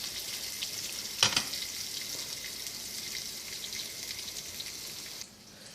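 Onions frying in a pan sizzle with a steady, bright crackle, a brief louder stir near the start, before the sound drops off abruptly at the end.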